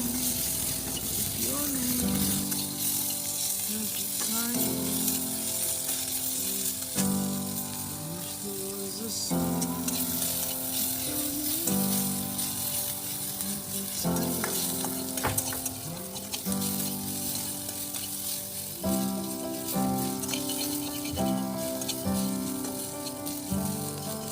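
Onion, chili, turmeric and salt frying in a pan with a loud, steady sizzle, broken by repeated stirring scrapes and clinks throughout, no voice present.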